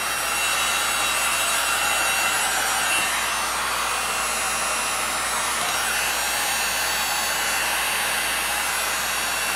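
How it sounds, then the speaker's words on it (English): A forceful heat gun blows hot air across an acrylic flip-cup paint pour, a loud continuous airy whoosh with a steady motor hum, running unbroken throughout and with no voices. "the theory with a heat gun is it brings cells up"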